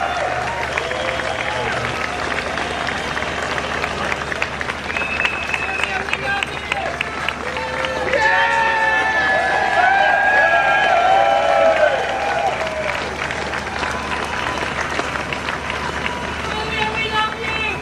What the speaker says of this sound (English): everybody here needs to give her a round of applause